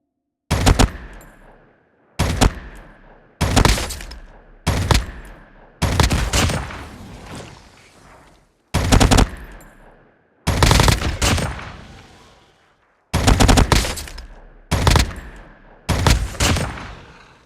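Gunfire and bullet-hit effects in COD Mobile come in bursts of rapid shots with short gaps between them, loud and punchy, some bursts longer and denser than others, with no voices.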